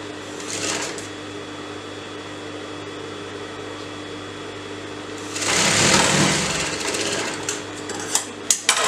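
A sewing machine stitches two waste fabric pieces together for a salwar or palazzo, a steady whirring drone throughout that swells louder and busier in a burst midway before easing, with a few clicks near the end.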